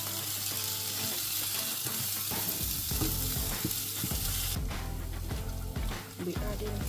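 Curry with beef stock being stirred in a hot pan, a constant loud sizzle and frying hiss with scraping stir strokes and light clinks, close up and without talk.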